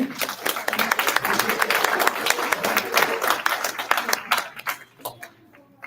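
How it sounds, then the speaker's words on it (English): Audience at an evening winter lecture on the steamboat Scioto claps for the speaker: a steady spatter of many hands for about four seconds, then thinning to a few scattered claps near the end. "Could we have one more round of applause for our speaker?"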